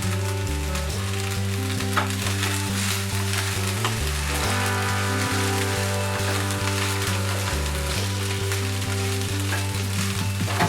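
Schezwan fried rice with spring onions stir-frying in a pan, making a close, steady crackling sizzle over rhythmic background music, with no one speaking.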